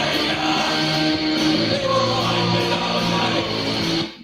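A song by a band plays back loud and dense, a continuous wash of distorted rock sound with a steady driving pulse, cutting off abruptly at the end.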